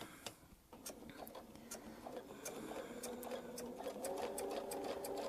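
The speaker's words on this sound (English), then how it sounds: "and we'll sew 2 arcs." A sewing machine runs in quick bursts while stitching arcs of a mini Baptist fan quilting pattern, a fast mechanical whir with rhythmic needle ticks, fairly close and alone, no talking.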